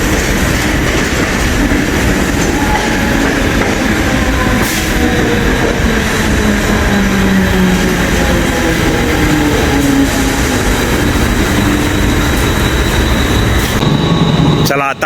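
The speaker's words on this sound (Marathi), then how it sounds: "आणि आता आपली ट्रेन आहे" A crowded Mumbai local train heading toward CSMT station rumbles loudly and steadily from inside the carriage, with a rushing clatter of wheels on rails and faint squeals throughout.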